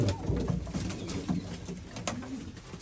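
A white-eyed female Chinese pigeon coos close by, low throaty rolling coos repeating steadily through the whole stretch.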